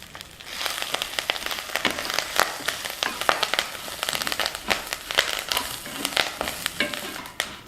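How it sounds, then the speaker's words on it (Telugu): Curry leaves crackle and sizzle in hot oil in a pan, with dense popping and spitting bursts running steadily throughout at close range, no voices. "ఇందులోనే కరివేపాకు వేసి వేయించుకుందాం"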